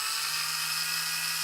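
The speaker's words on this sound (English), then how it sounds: "I'm going to drill one" Small drill boring a hole in a scale model rigging part, a steady high-pitched whine held at an even pitch throughout, close and fairly quiet with no talking.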